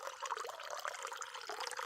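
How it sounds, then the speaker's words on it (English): A heavy splash of water, a sound-effect sample, plays alone as a dense, continuous watery wash with bubbling detail for about two seconds, moderately quiet throughout. "Heavy sploosh."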